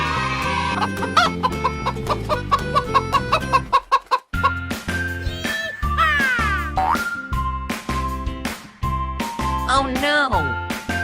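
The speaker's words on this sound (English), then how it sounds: "Chicken." A toy chicken plays loud, close electronic clucking notes in quick bursts, followed by more cartoonish bird calls and a springy boing, with a child's toy animal-sound set playing alone.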